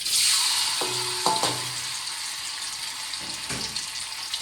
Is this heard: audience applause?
no